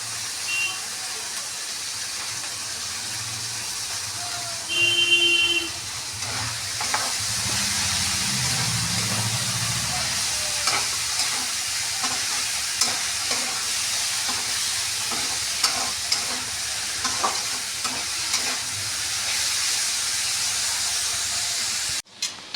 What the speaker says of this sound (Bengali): বাঁধাকপিগুলোও আমি ভেজে নেবো